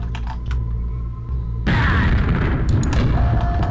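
A grenade blows up in a video game with a sudden loud blast partway through, then a dense, sustained rumble and crackle that rides over the ongoing game ambience.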